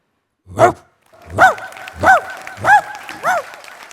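A person imitates a dog, barking five times in a steady rhythm, loud and close, with a short gap after the first bark.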